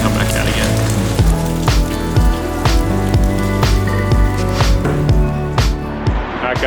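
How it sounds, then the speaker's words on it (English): Rain falling on tiled streets in Lisbon, with scattered sharp drips and splats over a steady wet patter, fairly close and irregular, with faint low background noise. "When it's raining, it's not exactly fun"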